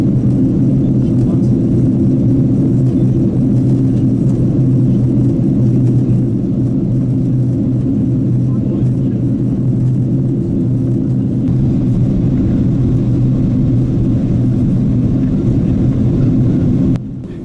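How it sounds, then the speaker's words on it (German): A loud, steady low engine drone fills an airliner cabin on approach to Holguín, Cuba, without letup, then eases off slightly at the very end. "Unser Flugzeug nähert sich seinem Zielflughafen Holguín"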